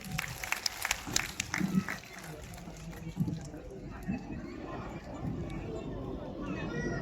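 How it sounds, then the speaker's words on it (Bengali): Scattered clapping from a gathered audience at a community event honouring elders, loudest at the start and then thinning into crowd murmur and voices talking. "জি, আবার একটু করতালি হবে।"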